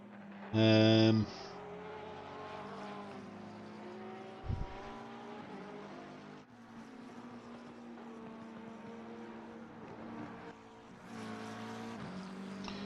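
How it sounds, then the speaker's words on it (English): An AMG Mercedes race car engine drones steadily in the distance, its pitch rising and falling as it passes, with a short loud tone near the start. "This car's making an amazing sound."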